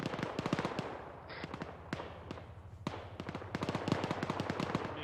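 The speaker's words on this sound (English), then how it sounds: "I just hear all kinds of fucking gunfire." Gunfire crackles in the military shooter ArmA 3: rapid bursts of sharp cracks and pops, some near and some distant, with brief gaps between volleys, continuing throughout.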